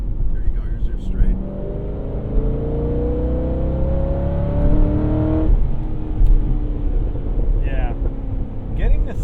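A Corvette C6 Z06 V8 engine revs hard to 7,000 rpm and climbs in pitch, loud and close from inside the car, with brief voices audible over the roar.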